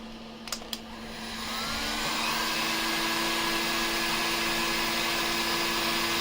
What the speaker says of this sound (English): get the heat gun